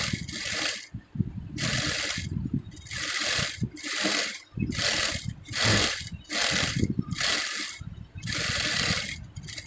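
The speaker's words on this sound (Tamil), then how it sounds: "இப்படி தான் ஓரம் அடிக்கணும், மேல் தையல் போடணும்" A sewing machine stitches a folded-over hem on a garment in bursts of rapid mechanical clatter lasting about a second each, split by short pauses. It is close and steady with no talking.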